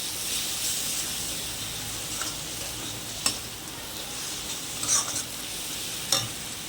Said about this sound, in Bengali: আবার একটু কষিয়ে নিই